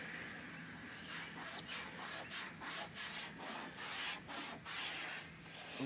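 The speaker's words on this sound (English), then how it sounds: "So I'm going to rub it down and stay in there" Cloth rubbed back and forth over car trim while working in trim dressing, a faint, soft rhythmic swishing in repeated strokes, close by.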